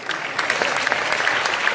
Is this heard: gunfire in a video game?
no